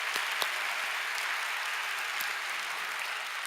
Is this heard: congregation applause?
yes